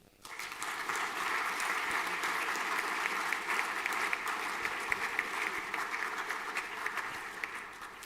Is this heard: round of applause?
yes